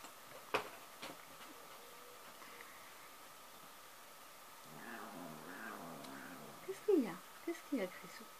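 An old cat gives a few short, faint meows in a quiet room, soft wavering cries near the end after a stretch of low hum, light ticking and a distant voice.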